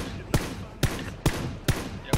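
Gunshots in the PUBG battle royale game: five sharp, loud single shots spaced roughly half a second apart in an even rhythm over faint background noise.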